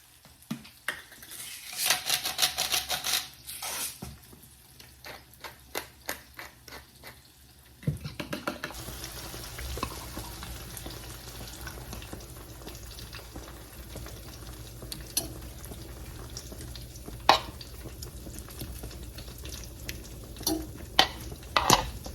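Bitter melon and eggplant frying in a pan, with stirring and utensil clatter, a quieter start giving way after several seconds to a steady close sizzle with occasional sharp clinks.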